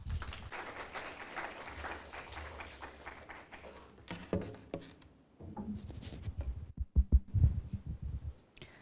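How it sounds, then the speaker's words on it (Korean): Audience applause at a university admissions information session in an auditorium, a steady patter of many hands clapping through the first half, then thinning into scattered handling noises and a few louder knocks near the end. "박수로 모시겠습니다."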